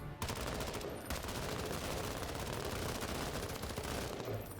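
Dense, sustained gunfire from the tactical game Menace rattles continuously in rapid automatic bursts, loud and close throughout.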